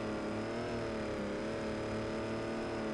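A gas engine in an off-road truck drones steadily as the truck crawls through mud in the Offroad Outlaws video game, a constant dense game-audio hum with no pauses or talk.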